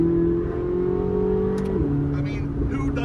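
A C8 Corvette Z06 accelerates hard, its engine tone climbing steadily before dropping sharply at a paddle-shifted gear change, then pulling on at a lower pitch.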